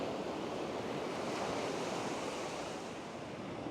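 Sea waves wash onto the beach at Great Yarmouth as a steady, continuous roar of surf mixed with wind noise, filling the whole stretch without any voices.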